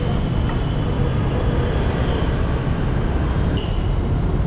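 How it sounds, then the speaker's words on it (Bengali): A metro train pulling out of a station, a loud continuous low rumble and roar close by with steady wheel noise throughout, no clear talk. "দাদার ট্রেন চলে যাচ্ছে"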